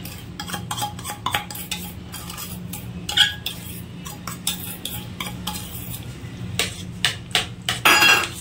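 A spoon stirs sugar into boiled raw mango pulp in a pot, scraping and clinking steadily in close repeated strokes, with a few louder knocks against the pot near the end.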